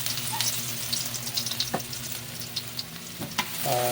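Garlic sizzling and frying in a hot pan for adobo sa gata, a steady close crackle with a few sharp stirring scrapes and clicks, no talking.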